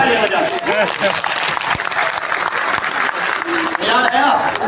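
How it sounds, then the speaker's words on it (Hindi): A large seminar audience at an RCM Business event claps loudly and continuously on cue, dense applause filling the hall with scattered voices mixed in. "अपने बगल वाले के एक बार जोर ताली बजाओ।"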